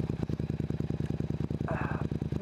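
A Yamaha MT-07 motorcycle engine thrums in a steady, rapid pulsing beat nearby, with a brief higher tone and some talking mixed in.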